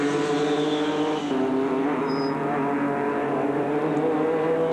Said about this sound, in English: they actually drive the cars flat out through this corner here